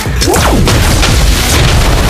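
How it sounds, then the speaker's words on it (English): Heavy booming explosions as a turret comes under attack in the Mobile Legends mobile game, loud continuous blasts and crashes with no speech. "Our turret is under attack."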